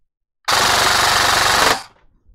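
Airsoft gun with a T238 33K RPM premium brushless motor firing on full auto, a single loud, rapid, steady burst of just over a second at close range that cuts off cleanly.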